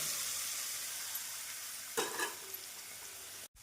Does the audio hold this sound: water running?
no